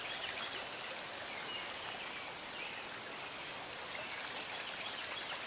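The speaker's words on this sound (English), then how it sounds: "Nice little creek though." A small, narrow creek flows off the beaten path, a soft continuous burble and rush of water heard alone at low level, steady throughout with no voices.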